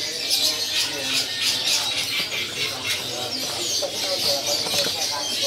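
Caged songbirds, cucak ranting and mini green leafbirds, call and chirp in a dense high twittering at a bird market kiosk, steady and fairly close, with faint background voices.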